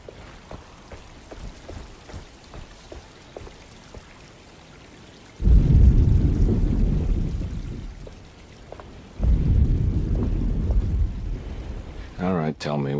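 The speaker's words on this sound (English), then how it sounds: "Just keeping an eye out for the storm. Radio says it could be a wild one." A thunderstorm in the 1992 video game Alone in the Dark: a light patter of rain runs throughout while two long, heavy thunder rumbles swell and fade one after the other, and a voice begins speaking at the very end.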